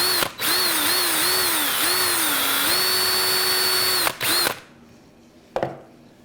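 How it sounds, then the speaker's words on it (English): A power drill used like a Dremel rotary tool to hog out material inside a K'Tinga model kit whines loudly and steadily, its pitch shifting under load, stopping briefly and restarting before cutting off, followed by a faint clunk. "You didn't know a drill could be used as a Dremel tool."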